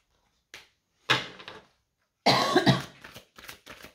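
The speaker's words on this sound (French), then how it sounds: "Désolée, hein, je tousse encore." Several dry coughs in separate bursts, one short and faint, then a stronger fit, then a longer harsh run of coughing followed by a few smaller ones, close by.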